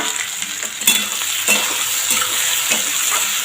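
Vegetables with pumpkin greens, spices, a bay leaf and minced chilli sautéing in a pan, a loud steady sizzle broken by repeated scraping stirs of a spatula, close up.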